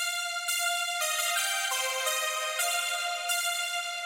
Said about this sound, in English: Then we have this preset from Sylenth 1 called the lead follow,